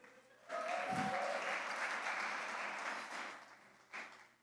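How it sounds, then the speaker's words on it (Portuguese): A church congregation applauds during a sermon, dense sustained clapping that starts abruptly and fills the room, tapering slightly before a final swell. "Vamos aplaudir ali a mídia."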